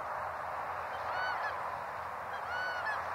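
Canada geese honk during a small-water goose hunt at a cattle pond, two clear honking calls rising over a steady noisy background, with no talk.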